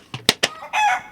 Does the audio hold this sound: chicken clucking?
yes